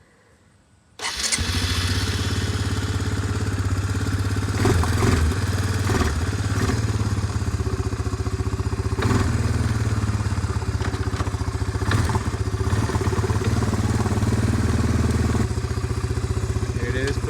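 A Suzuki Eiger 400 quad ATV engine cranks and fires after a quiet moment, then settles into a loud, steady, close idle with a rough thrumming rhythm and some clatter throughout.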